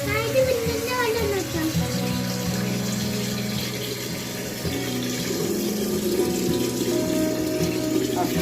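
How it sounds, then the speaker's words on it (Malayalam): Water running from a tap into a container while something is being washed, a steady close splashing stream that lasts throughout, with a voice talking over it. "ആ വെള്ളം നിറച്ചോളാം കഴുകിയിട്ട്."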